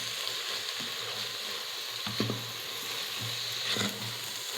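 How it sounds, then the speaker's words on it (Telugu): Garam masala being stirred into a bean curry in a pot, with steady frying sizzle throughout and a few soft spoon scrapes and knocks against the pot. "కొంచెం గరం మసాలా వేసుకొని కలుపుకోండి."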